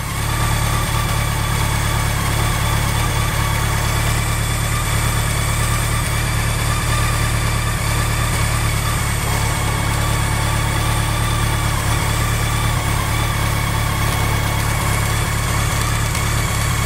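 A 1986 BMW K100 motorcycle engine idles steadily and close up, a constant even hum with a low throb that holds unchanged throughout, with no voices.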